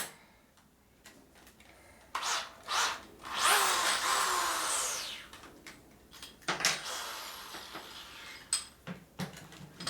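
A carbide bit drills into a broken rear sprocket pulley bolt on a Harley twin cam in short close bursts. Between them come metallic ticks and tool clatter, with one longer rising whine in the middle.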